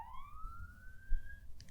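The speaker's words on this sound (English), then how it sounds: "It looks like an ambulance just drives by him." An ambulance siren plays back from a video as a single rising wail, moderately loud and heard on its own for under two seconds.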